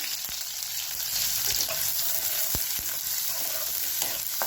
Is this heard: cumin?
yes